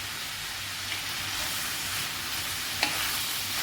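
Chopped tomatoes and prawns frying together in a pan for a prawn theeyal, a continuous close sizzling hiss with one sharp utensil tap near the end and no speech.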